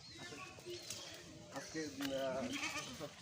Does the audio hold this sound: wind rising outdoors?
no